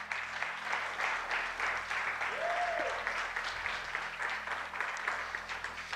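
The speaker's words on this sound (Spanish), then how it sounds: "si le vas a aplaudir al Señor, apláudale fuerte." A church congregation claps loudly and steadily together, a dense continuous roar of applause that fills the room from start to finish.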